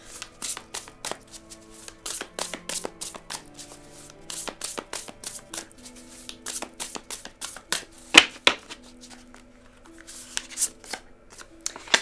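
Tarot cards shuffled by hand before a reading, a close, steady run of crisp riffles and flicking card slaps with a few sharper taps along the way.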